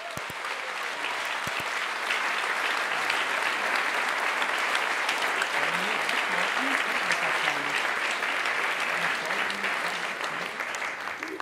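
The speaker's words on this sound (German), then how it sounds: "Begrüßt ihn mit einem tosenden Applaus." An audience gives a steady, full round of applause, welcoming a physics department speaker onto the stage and holding it for about ten seconds.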